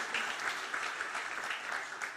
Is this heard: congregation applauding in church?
yes